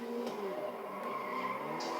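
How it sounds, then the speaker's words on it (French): Tyres of a truck squealing and skidding as it drifts in a video game, a continuous screech with some engine tone, moderately loud. "On va essayer de drifter avec un camion."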